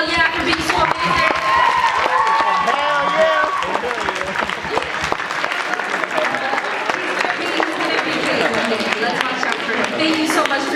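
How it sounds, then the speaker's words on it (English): An audience at an awards ceremony breaks into applause and cheering, the clapping building as talk gives way to a loud, dense stretch of claps. "Can we give them a huge round of applause and a hell yeah for being so amazing?"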